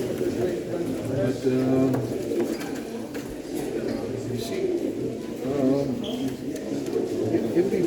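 Jacobin pigeons cooing at a regional bird show, soft low rolling coos repeating throughout under close, steady talk from a man, with faint crowd murmur in the background.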